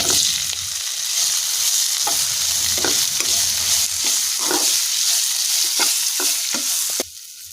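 Raw banana pieces with turmeric fry and get stirred in a pan, a steady close sizzle broken by repeated scraping strokes of the spoon, ending in a quieter hiss.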